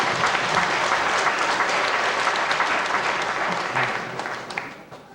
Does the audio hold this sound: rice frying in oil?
no